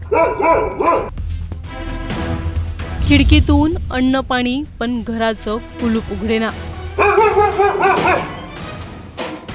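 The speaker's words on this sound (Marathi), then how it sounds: "3 दिवस एकच आवाज येत होता, शेरूच्या भुंकण्याचा" A dog, left alone locked inside a house for three days, barks in short bursts near the start while a voice speaks over it, the yaps fading under continuous talk.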